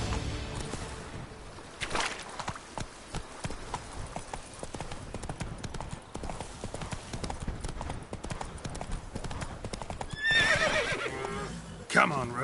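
Roach, a horse in a video game, gallops with steady, rapid clip-clop hoofbeats, then lets out a brief whinny near the end over the running hooves.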